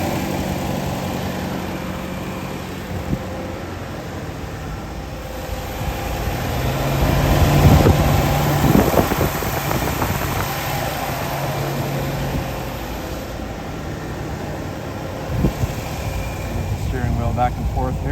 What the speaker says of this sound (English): Doesn't that engine sound beautiful? So smooth, quiet.